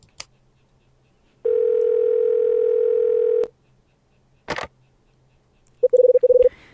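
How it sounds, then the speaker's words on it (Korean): Telephone in a video game: a sustained dial tone, then brief key-press beeps and a short burst of rapid dialing tones, clean and close with quiet gaps between. "레이첼에게 전화해볼까?"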